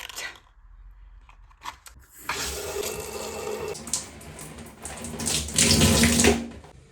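Water runs from a tap to wet hair, starting with a short trickle and then becoming a steady splashing gush that grows louder toward the end and is heard alone.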